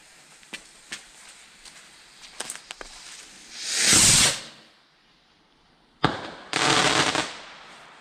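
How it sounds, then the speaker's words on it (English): A firework rocket on Bonfire Night crackles at ignition, then whooshes up with a rising hiss and bursts into a sharp bang followed by a crackling, fizzing shower, fairly close and loud with no talking. "Rocket first."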